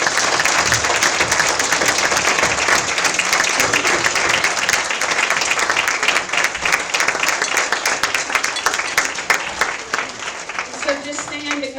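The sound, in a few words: congregation applause at a Sunday church celebration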